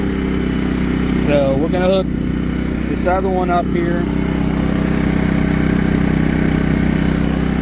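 A Firman WH03242 propane generator runs at a steady, constant speed, its loud mechanical drone continuing under a man's speech.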